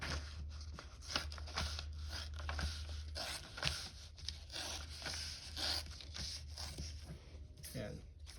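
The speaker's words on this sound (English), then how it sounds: "So you can just rip off this little piece of paper." A strip of paper torn off by hand while building a paper plane, giving dry crinkling and tearing rasps in bursts, close to the microphone, with a person talking throughout.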